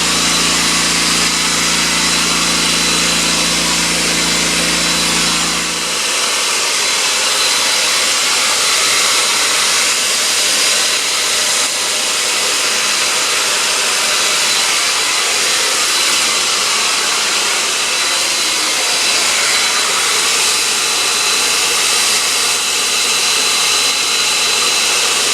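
A hair dryer blows steadily and loudly for the whole stretch, drying a light coat of craft acrylic paint on a 1/350 Polar Lights Star Trek TOS Enterprise model; a low hum drops away after the first few seconds.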